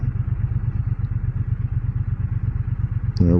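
Triumph Bonneville T120 motorcycle, a 2025 model, rumbles steadily at speed with an even pulsing engine beat and wind roar, ending with a brief tonal rise as the throttle changes.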